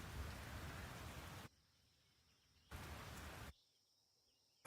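Rain falling in the farming video game Fields of Mistria, a steady soft hiss that cuts out abruptly twice and resumes, with no talking.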